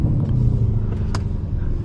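Lamborghini Urus in Corsa mode with manual paddle-shift mode engaged and exhaust valves open, giving a steady, loud, deep engine rumble close by throughout, with no talking.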